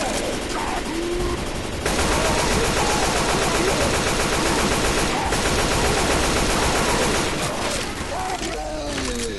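Dense, continuous automatic gunfire from the zombie shooter Left 4 Dead 2, loud and sustained across the whole stretch with a brief dip near the start, with faint voices underneath.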